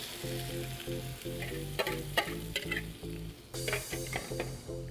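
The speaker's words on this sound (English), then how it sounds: "We're going to go ahead and add that to the pan of mushrooms." Whisked eggs hit a hot pan of mushrooms and fry with a steady, bright sizzle, under a rhythmic backing music track, the hiss swelling louder toward the end.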